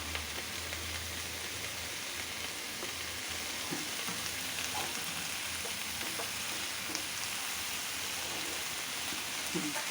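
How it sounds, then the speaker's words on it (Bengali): Dried chillies and garlic tempering in hot oil for a taro and hilsa fish dish, giving a steady, close crackling sizzle with small pops throughout, alone without talk. "এখন আমি পাঁচ শাকটি দিয়ে দেব তারপরে আমি শুকনা মরিচ আর রসুন দিয়ে বাগার দেবো"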